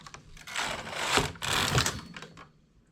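A knitting machine fitted with a ribber carriage knits the starting rows in wool, giving two close back-and-forth rattling carriage passes that swell and fade over a few seconds.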